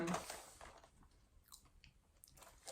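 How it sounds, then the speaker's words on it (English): Close, quiet chewing and munching of food, with soft crunchy bites scattered across a few seconds and a louder burst at the start. "why I'm still munching"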